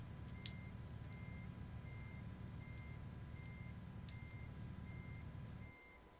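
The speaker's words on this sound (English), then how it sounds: "Go backwards, no cars here." A truck's reversing alarm in Euro Truck Simulator 2 beeps at a steady, evenly spaced rhythm over a low engine drone, fairly faint, before the engine note drops near the end.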